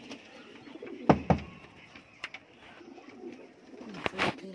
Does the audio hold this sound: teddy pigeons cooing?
yes